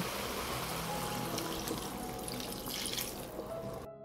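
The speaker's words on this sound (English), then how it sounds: "Now I add 300 milliliters of white wine." White wine pours into a cooking pan over fried mushrooms, a steady liquid rush and bubbling sizzle running continuously for about four seconds before cutting off.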